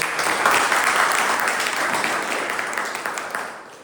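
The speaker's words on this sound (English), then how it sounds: "Can we have a huge round of applause for him?" An audience at a Toastmasters club meeting gives a dense round of applause that holds steady and then slowly tapers off.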